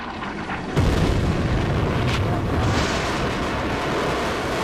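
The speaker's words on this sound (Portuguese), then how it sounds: "O meteorito de Ensensheim, com 113 quilos, cai com um grande impacto." A 113-kilogram meteorite strikes the ground in Austria in 1492, a sudden heavy boom that breaks in loudly and then rolls on as a dense, sustained rumble, with no voices.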